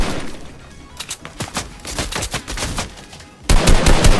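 Bursts of automatic gunfire from a video game, irregular shots clustering into rapid volleys that grow louder and denser toward the end, with no voices.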